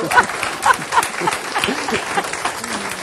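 Studio audience applauding on a Portuguese afternoon television talk show, a steady patter of clapping for about three seconds with voices talking over it.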